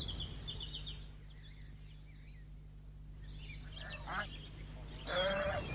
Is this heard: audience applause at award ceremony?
no